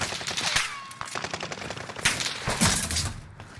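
Bren machine gun in Warzone firing rapid, loud bursts close up, a dense chattering stream of shots with brief gaps between volleys.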